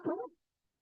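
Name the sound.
stifled sneeze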